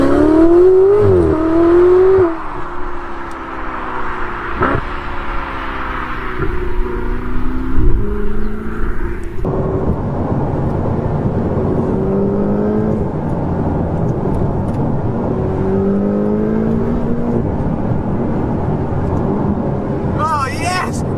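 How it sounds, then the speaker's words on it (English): A Ferrari 488 GTB's turbocharged engine pulls hard from inside the car, its rising tone climbing and dropping through several gear changes while an excited voice talks over it. "You can hear the turbos like... I love that."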